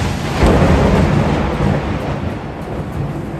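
Loud rolling thunder rumbles through steady rain in San Ildefonso, Bulacan, with a deep low boom swelling early and a second surge midway, heavy and close, no voices.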